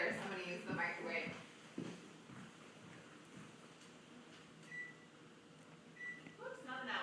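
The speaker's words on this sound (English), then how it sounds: "I'm going to use the microwave" A microwave oven's timer is set, giving a few short, thin electronic beeps spaced apart, faint under a person talking in a room.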